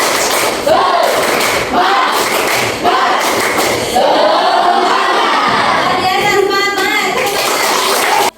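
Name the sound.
class doing rhythmic 'tepuk semangat' clapping chant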